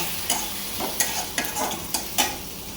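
Tuna fish bhuna being stir-fried in a pan, with a spatula scraping and turning the fish in regular strokes over a steady, close sizzle, about six distinct stirs.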